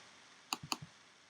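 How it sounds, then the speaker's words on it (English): A computer mouse clicks on a search button with two quick sharp double clicks, each press and release closely paired, quiet and isolated against faint room hiss. "and then you're going to click search"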